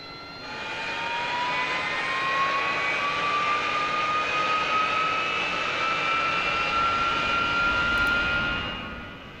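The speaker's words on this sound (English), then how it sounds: "You see the engine spooling up now." An AV-8B Harrier jet engine in a flight simulator game spools up from idle, a loud whine climbing steadily in pitch over a broad roaring hiss, sustained and close without talk.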